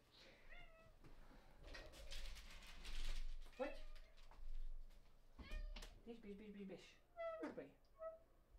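A house cat meowing several times indoors, short repeated meows spread across the stretch, with a person talking quietly and some mechanical clicking in the room.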